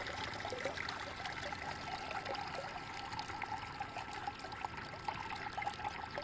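Homemade liquid fertilizer strains down through a bucket, a soft, steady trickle and patter of dripping liquid that runs quietly and continuously without any talking.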